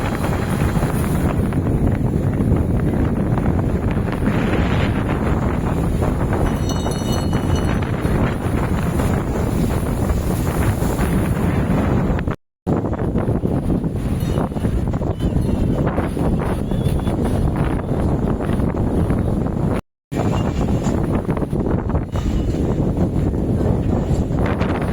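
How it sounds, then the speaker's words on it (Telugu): Sea waves surge and break against rocks on the Pondicherry shore, a steady, loud, close roar of surf mixed with gusting wind buffeting the microphone, with two brief dropouts. "ఆ ఒక్కొక్క అలలు వచ్చి ఆ రాళ్ళని తాకుతూ ఉంటే అమ్మని శబ్దం వస్తూ ఉంటుంది"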